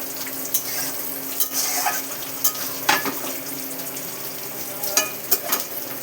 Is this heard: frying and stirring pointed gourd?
yes